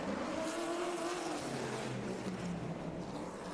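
Muscle race cars from the Muscle Car Challenge rush through the bumpy turns 6 and 7, engines roaring loudly with a sweeping pitch as they pass, a short continuous burst of racing noise.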